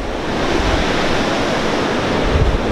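Ocean waves break along a coast suited to surfing, a loud, steady roar of surf and rushing water close by, with a rumbling low end and no talking.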